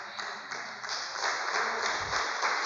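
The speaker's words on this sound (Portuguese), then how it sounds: "O pessoal está aplaudindo hoje." Church congregation applauding, a broad wash of many hands clapping at a distance, steady and fairly soft, with a faint low rumble partway through.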